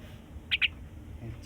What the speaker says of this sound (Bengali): ওইদিকে পাখিটা আছে শালিক পাখি